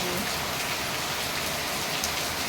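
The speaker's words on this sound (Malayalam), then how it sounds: "നല്ല മഴ പെയ്തുകൊണ്ടിരിക്കുകയാണ് കേട്ടോ" Heavy rain pours down steadily, a dense, loud wash of drops drumming on surfaces with no break.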